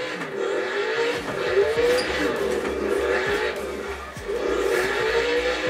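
A car drifting in practice for a drift championship, handbrake pulled, engine revving hard and tyres squealing in long repeated skids, with a man calling out over the noise.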